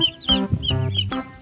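A toy chicken or rooster, part of a truck playset, gives repeated electronic clucking calls, three or four short bright tonal bursts in quick succession, loud and close.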